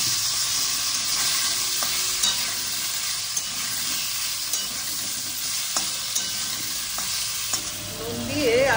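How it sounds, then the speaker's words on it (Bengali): Koi fish and ridge gourd cooking in a frying pan give a steady close sizzle with light stirring scrapes throughout, and no voices. "চলো মাছটা বসিয়ে দিই।"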